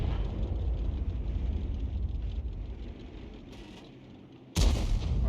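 An M40/M43 self-propelled howitzer fires in War Thunder: one sharp, loud boom cracks out near the end of the clip, following a steady low engine rumble that fades before the shot, with no voices.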